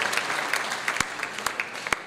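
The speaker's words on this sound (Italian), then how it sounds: "Ecco, un applauso" Audience at the Bobbio Film Festival applauding a screening of "Cuori Puri", a steady patter of many hands with a few sharp louder claps standing out, moderately distant and continuous throughout.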